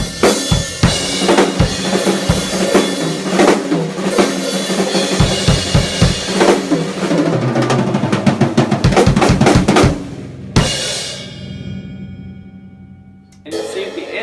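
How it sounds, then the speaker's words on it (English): A drum kit plays a big rock ending: rapid loud tom fills, snare hits and crashing cymbals pound for about ten seconds, then a final crash rings out and decays, with one more hit near the end. "your big rock finish is going to sound something like this"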